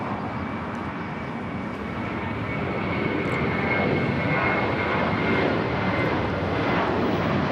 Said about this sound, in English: JetBlue 124 taking off to JFK on time on the A321.